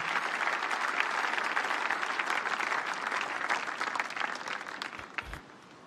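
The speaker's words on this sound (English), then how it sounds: "Put your hands together beautifully for the miracle working God" A church congregation applauds at a healing service, sustained and loud dense clapping from many hands that gradually thins out and fades near the end.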